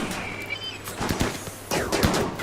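Scattered gunshots and short bursts of fire from colonists shooting at raiders in RimWorld crack in irregular clusters, fairly close, with a couple of heavier impacts among them.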